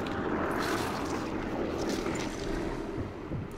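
Steady droning airplane engine noise from the World War II shooter game Sniper Elite 4, a broad continuous rumble holding level throughout with no one speaking.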